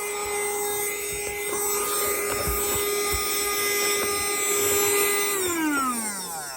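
A small handheld vacuum cleaner runs alone with a steady high motor whine, then its pitch sags and winds down at the end as the battery runs flat.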